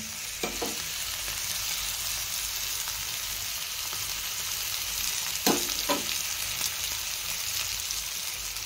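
Steady, soft sizzling of batter-coated taro leaves frying in oil on a griddle, a continuous crackle with a few brief clinks, no voices.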